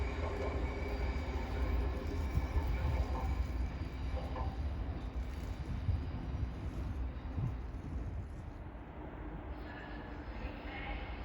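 A CrossCountry Class 170 diesel multiple unit pulls into a platform at Derby station with a steady, continuous rumble of engine and rolling wheels, loud and close, with faint high wheel squeal near the end.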